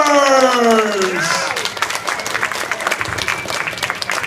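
At a live furry convention stage show at Anthrocon 2016, a crowd applauds and cheers the interpreters, loud dense clapping with whoops. A sustained tone fades out at the start.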